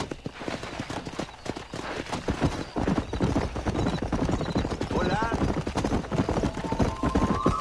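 Galloping horse hooves in the Western video game Red Dead Redemption, a steady rapid clatter running through the whole stretch with a brief whinny midway, mixed with game music and voices talking over it.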